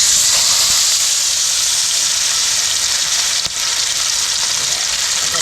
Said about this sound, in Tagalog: Talagay na natin yung isda natin piprituhin.